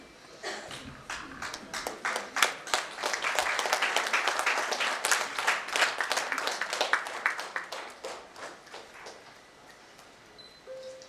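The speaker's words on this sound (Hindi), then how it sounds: "हम तालियों से उनका सत्कार करें।" An audience gives a welcoming round of applause for Dr Jyoti at a lecture, scattered claps building into a dense burst before thinning out to a few last claps.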